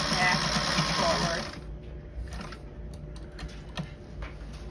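A sewing machine stitches hinged cockpit cushions with a fast, dense whirring run for about a second and a half, then stops, leaving faint clicks and handling noise, close by.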